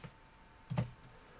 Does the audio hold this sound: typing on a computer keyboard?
yes